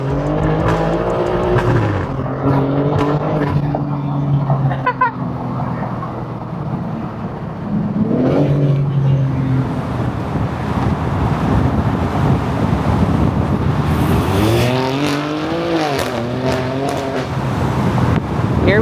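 A BMW M4 pulls hard from first gear with the windows down, its engine note rising steadily and loud over wind noise, then shifting and climbing again near the end.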